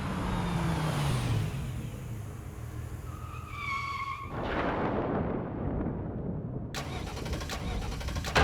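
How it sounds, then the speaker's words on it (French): A car whose engine will not start cranks repeatedly without catching, in a flooded town; the grinding starter noise is steady and fairly close, broken by a couple of sharp, mechanical transients. "la voiture ne veut plus démarrer"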